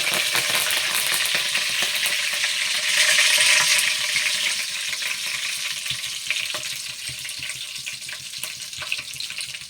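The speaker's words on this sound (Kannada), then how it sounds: "ಇವಾಗ ಎಣ್ಣೆ ಚೆನ್ನಾಗಿ ಕಾದಿದೆ. ಅದಕ್ಕೆ ಇವಾಗ ಒಂದು ಅರ್ಧ ಸ್ಪೂನಷ್ಟು ಸಾಸಿವೆ, 1 ಎಸಳಷ್ಟು ಕರಿಬೇವು," Mustard seeds and curry leaves hit hot oil for a bamboo shoot curry, giving a loud, dense sizzle with crackles that surges briefly, then settles into steady frying with scattered pops and no talking.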